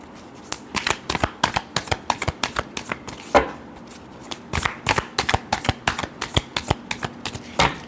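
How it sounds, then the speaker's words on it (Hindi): Tarot cards being shuffled by hand in a steady run of crisp, close riffling slaps, with a brief pause partway through before the shuffling resumes; no talking. "Last shuffle."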